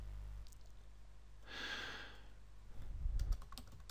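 Brief burst of keyboard typing during a PHP form-processing coding session, a short run of clicks near the middle of the clip, followed by a soft low thump, with no talking.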